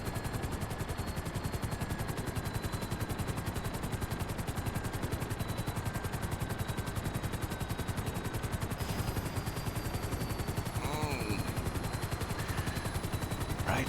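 Steady rapid gunfire from the GTA Online game, a continuous fast rattling of shots that runs unbroken throughout at an even level, with faint whistling tones above and a brief chirping sound near the end.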